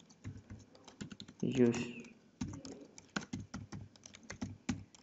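Quick bursts of computer keyboard typing while code is written, clicky and close, with a voice speaking briefly over the keys.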